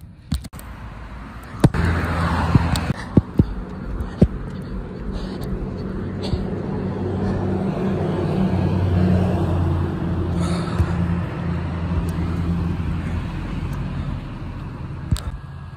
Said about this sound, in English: Let me look for traffic before I cross the crosswalk.